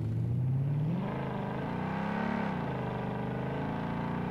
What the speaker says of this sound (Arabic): خلينا نجرب السياره هاي. حلو، هاي هامر